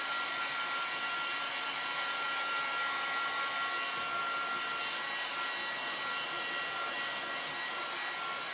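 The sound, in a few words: hair dryer drying ink on a transfer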